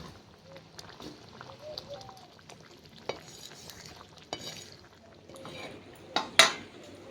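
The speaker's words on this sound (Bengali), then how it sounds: "এবার এর মধ্যে ভেজে রাখা সোয়াবিনের বলগুলো দিয়ে নেব" Fried soya balls drop into simmering gravy in a pan, giving a soft, continuous bubbling sizzle with light stirring and utensil scrapes. A faint voice sits under it, and a louder clatter comes near the end.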